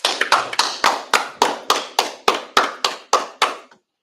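About a dozen loud, sharp claps land in a steady, evenly spaced rhythm, like a group clapping in unison during a scripture class, then stop abruptly.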